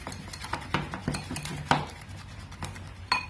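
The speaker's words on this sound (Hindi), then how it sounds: "खूब अच्छे से हम इसको फेंट देते हैं" Spinach waffle batter is beaten in a bowl, giving a quick series of close, clinking and tapping strokes against the bowl at an irregular rhythm, with no talk.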